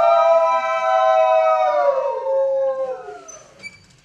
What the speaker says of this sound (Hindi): सियारों के दल ने करुण सुर में सामूहिक विलाप करना शुरू कर दिया